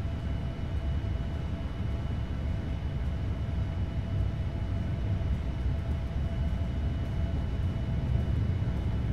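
Boeing 787-8 jet engines at takeoff thrust in a flight simulator game, departing Amsterdam: a continuous heavy roar with a steady whine, loud and unbroken for the whole stretch, with no talking.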